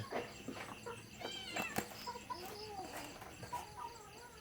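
A cat meows with rising and falling cries, fairly close, in a rural kitchen setting with faint background bird or chicken sounds.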